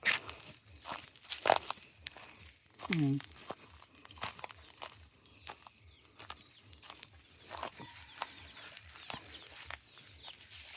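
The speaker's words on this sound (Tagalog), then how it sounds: "Meron ding mga manok." Chickens cluck and squawk on a four-hectare farm in Palawan amid crunching footsteps and voices, the calls brief and intermittent at moderate distance.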